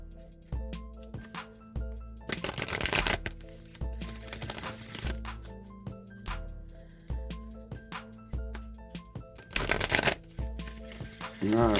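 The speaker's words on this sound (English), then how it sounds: "I'm going to shuffle the Wisdom of the Oracle deck a few times." A Wisdom of the Oracle tarot deck is shuffled over and over. Crisp riffling bursts of cards alternate with softer handling and quiet clicks, close to the microphone.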